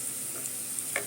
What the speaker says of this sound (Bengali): মাছের ডিমগুলো সব কিছু দিয়ে সুন্দর করে ভেজে নিয়েছি